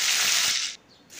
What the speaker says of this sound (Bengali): ফোড়নটা ভালো করে ভাজা হয়ে গেলে এরপর কেটে রাখা ভেন্ডিটা আমি দিয়ে